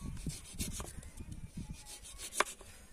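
Tapioca root being sliced into chips in a village setting: quiet, quick rasping and scraping strokes repeat in a loose rhythm, with one sharper click near the end.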